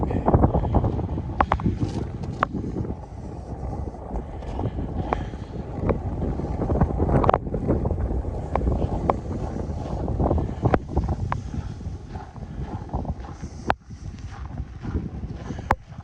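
Wind blowing hard during a blizzard while walking outdoors in Regina, a loud continuous buffeting roar against the microphone that gusts and surges without letting up.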